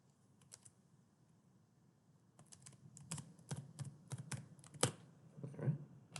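A Wi-Fi password is typed on a computer keyboard: a few scattered keystrokes, then a quicker, denser run of clicks, close and fairly quiet over a low room hum.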